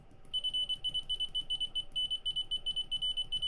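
A Hantek HDM3065/HDM3055 bench multimeter with Pomona probes gives its continuity beep: rapid, short, high-pitched chirps in uneven bursts as the probes are tapped, over a low background hum.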